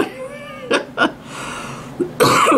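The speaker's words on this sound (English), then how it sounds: "it's just this cough I've had since I'm 3 years old" A few short, sharp coughs in quick succession, close to the microphone, followed by a harsher burst at the end, with no talking.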